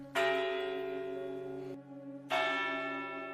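Church bells of Soria tolling in a slow, monotonous, mournful way, heard from afar: two long resonant strokes, each ringing out and fading, with a brief silent gap between them.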